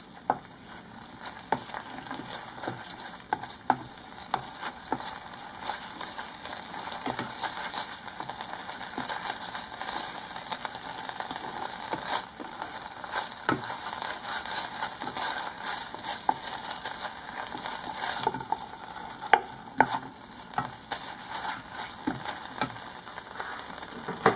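Ingredients for Thai cassia leaf curry with sator beans stir-fried in a pan, a steady sizzle with intermittent scraping clicks from stirring over a low background hum, close by and alone.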